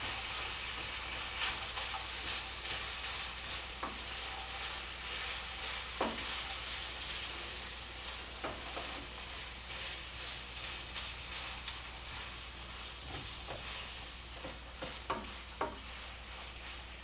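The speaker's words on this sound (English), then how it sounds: "while my hamburger meat is browning, I'm going to go ahead and put the onions in with it" Hamburger meat and onions sautéing together in a pan for cowboy baked beans, a soft, continuous sizzle with scattered pops and crackles, fairly quiet and close.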